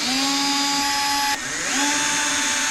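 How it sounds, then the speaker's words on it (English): A power drill runs steadily while backing screws out of the drain hole in a bass boat's fiberglass interior, a loud continuous whine that dips briefly midway and then spins back up. "take those screws out of the drain hole"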